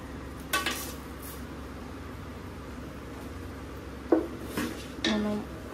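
Metal utensil clinking against a pot while mixing chicken fry piece biryani ingredients with whole spices, a few sharp scrapes and clinks spaced apart over a quiet background hiss.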